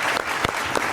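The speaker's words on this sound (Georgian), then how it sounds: "აპლოდისმენტები." Studio audience applause at a television talk show, a brief, close burst of dense clapping.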